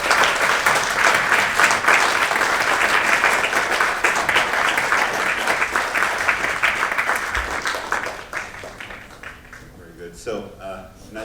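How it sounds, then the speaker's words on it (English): Applause for the 2019 graduates at a public speaking academy graduation, a dense, loud wash of clapping from a large audience that holds steady for about eight seconds before thinning into scattered claps. "a round of applause for the graduates of 2019"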